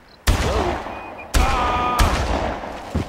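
Gunfire in the Far Cry video game: three loud, sharp shots spaced about a second apart, each with a long ringing tail, plus a fourth beginning at the end, close and dominant with no talk.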